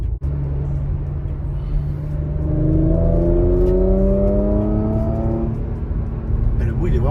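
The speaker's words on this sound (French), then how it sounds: "Là je suis en échappement ouvert." A stock Porsche Macan with its exhaust valves open revs up in manual mode, a loud, close engine note climbing in rising sweeps and holding a steady drone throughout.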